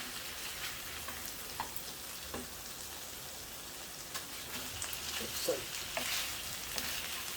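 Chicken tandoori pieces cook in a pan with a soft, steady rain-like sizzle, quiet and continuous, with a few faint taps and shuffles as the pieces are checked.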